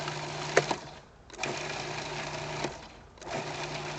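A Weber food processor pulverizes dry salsa verde ingredients in short pulses, a whirring motor buzz that rises and cuts off three times in quick succession, close and moderately quiet.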